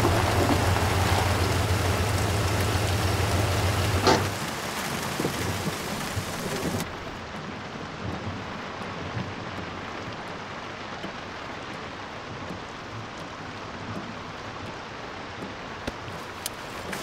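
Steady heavy rain pours down, a dense hiss that stays constant throughout, with the sound shifting slightly partway through and no voices.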